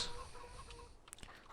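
Chickens cluck softly on a farm in the Farming Simulator 19 video game, with faint scattered clucks over a quiet ambient background.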